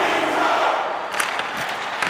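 Dense arena crowd roaring and cheering in the NHL 25 hockey game, a steady broad wash of noise with a few sharper shouts rising near the end.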